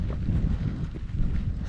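Wind and rain buffet a microphone during a hike on the Scottish mountain Schiehallion, giving a steady, dense, rumbling roar that fills the whole moment without voices.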